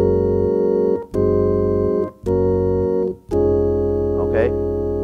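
A gospel organ phrase played without grace notes: four sustained full chords of roughly one second each, separated by brief gaps, loud and close, with a faint brief vocal sound near the end.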